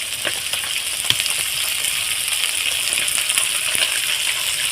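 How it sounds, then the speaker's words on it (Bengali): Mustard oil goes into a pan of onions already fried red with ginger, chilli and garlic, and the pan sizzles with a bright, constant crackle and a few sharper pops. The sizzle is close and steady, with no talking. "এবারে এখানে কিছুটা সরিষার তেল দিয়ে দিলাম"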